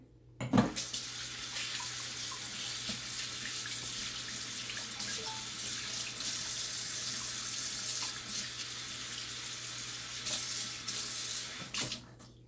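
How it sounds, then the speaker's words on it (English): Tap water runs steadily into a sink while a pan is washed after topping turkey wings, a continuous close hiss lasting about eleven seconds with a brief clatter at the start. "we got to come back and wash this pan here too"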